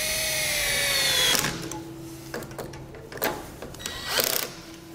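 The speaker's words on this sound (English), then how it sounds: "I'm actually just gonna come in here with a 10 mil socket. Just kind of tighten them down a little bit." Bolts mounting a Curt roof cargo basket on a 2019 Toyota Highlander are tightened with a 10 mm socket, giving a close whirring run followed by a series of short clicks and ratcheting bursts.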